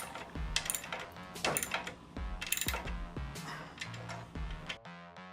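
A bolt tightened on a 7-inch light pod mounting bracket: close, irregular metallic clicks and ratcheting taps with small clanks, quiet and without talk.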